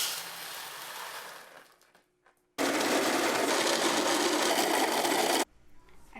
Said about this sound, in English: I've ground my coffee as coarse as I can.